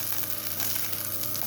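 Fenugreek, garlic, ginger, curry leaves and shallots fry in hot oil for a fish curry, giving a steady, close sizzle with faint crackles and no talking.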